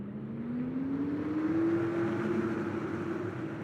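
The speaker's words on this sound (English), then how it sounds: "And the engines will fire up." Race car engines in a racing video game roll off at Richmond International Raceway, a smooth steady engine whine rising gently in pitch at moderate loudness with no talking.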